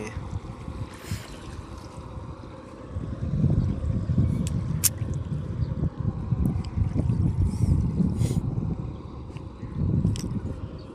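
A steady low rumble of boat engines rises and falls as boats pass on a river, with scattered clicks and light wind noise.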